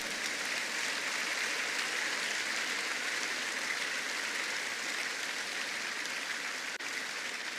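A church congregation at a worship service applauds and cheers loudly for the Lord, a dense, steady wash of clapping and crowd noise that holds at full strength for the whole stretch without a break.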